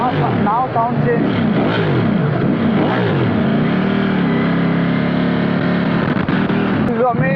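A BMW S1000RR fitted with a slip-on exhaust revs loudly and close by, with quick rising and falling blips giving way to a sustained high-rev roar.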